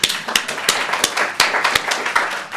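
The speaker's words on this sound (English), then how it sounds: "So a round of applause for yourselves." Scattered hand claps ring out close by, irregular and sparse, like a small group clapping briefly rather than a full roaring applause.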